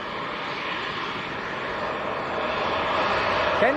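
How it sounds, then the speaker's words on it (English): An all-white KLM Embraer E190 jet airliner at Leeds Bradford Airport, bound for Amsterdam, gives a steady, fairly distant engine roar that slowly swells toward the end. "Embraer E190."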